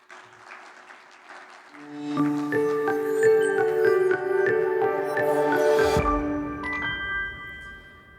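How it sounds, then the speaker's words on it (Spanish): Audience applause at a business conference on productivity and AI, a steady wash of clapping that swells after the first two seconds and is blended with a bright, ringing musical jingle before cutting off near the end. "recibámoslo con un fuerte aplauso"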